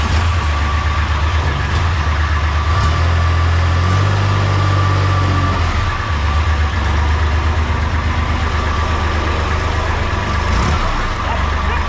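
A Hinomoto HM3020 compact tractor's diesel engine runs at a steady idle, close and loud, with a low, even drone that briefly shifts in pitch midway.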